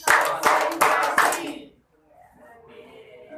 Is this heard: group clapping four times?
yes